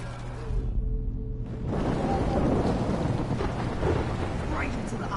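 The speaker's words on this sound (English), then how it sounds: "Right into the eye of the storm." A loud thunderstorm in Life is Strange, heavy rain and rolling thunder that fill the scene after a brief lull, with a dense, constant roar of storm noise.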